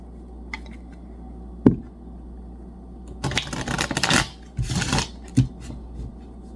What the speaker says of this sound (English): This is why I'm shuffling.